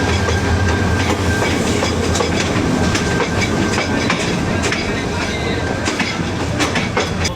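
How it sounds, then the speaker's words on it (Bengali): Brahmaputra Express passenger train rolling into Gafargaon station in Bangladesh, a loud continuous rumble of wagons with rhythmic clickety-clack of wheels over rail joints and a faint squeal, heard close by. "ওইদিকে চলে এসেছে ব্রহ্মপুত্র এক্সপ্রেস।"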